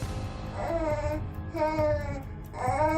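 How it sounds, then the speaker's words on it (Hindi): A little girl, a baby in a cradle floating on water in a horror story, cries in rising and falling wails, in three bursts over steady background noise. "अचानक से उसे एक छोटी बच्ची के रोने की आवाज सुनाई दी।"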